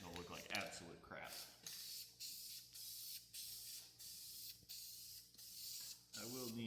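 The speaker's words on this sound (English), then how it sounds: "What you want to do is get as close as humanly possible and just spray out of it." Aerosol paint sprayed from a can held close to a surface during work on a car engine and transmission install, giving repeated short hissing bursts in a steady rhythm, fairly loud and close with no talk over them.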